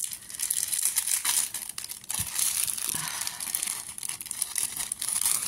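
Clear plastic packaging holding a stapled necklace crinkles and rustles in close, irregular bursts with brief crackling peaks and no talk.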